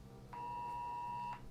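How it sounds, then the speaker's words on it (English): A phone emergency alert for a flash flood warning sounds one loud, steady electronic tone that lasts about a second over a low background hum. "I just got an alert on my phone"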